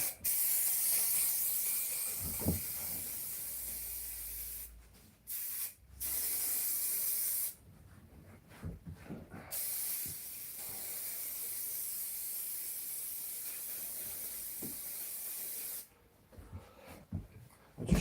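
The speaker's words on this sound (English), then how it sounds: "I'll just show you quickly what this spray looks like." An aerosol spray can released in several hissing bursts of varying length, separated by pauses, close and fairly loud, with a few faint knocks between sprays.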